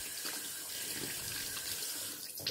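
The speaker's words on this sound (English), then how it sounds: "So let me wash my hands again right quick." Tap water runs steadily into a bathroom sink while hands are washed beneath the stream, a continuous near splashing hiss with small shifts as the hands move through the flow.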